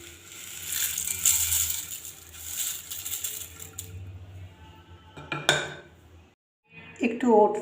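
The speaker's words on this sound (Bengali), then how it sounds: "দুধের মধ্যে কর্নফ্লেক্স মিশিয়ে দেব" Metal spoon clinking and scraping against a bowl while cornflakes are mixed into milk for a cornflakes-and-oats breakfast, with a busy rattle of utensils that thins out and pauses before a few brighter clinks near the end.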